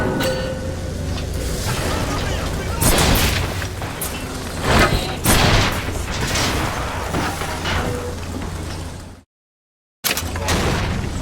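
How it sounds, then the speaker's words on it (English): Rocket explosions and heavy booms in Bioshock Infinite during an airship battle, a dense, loud barrage with several big blasts and clanking machinery, cut by a brief dropout near the end. "Watch out, rockets!"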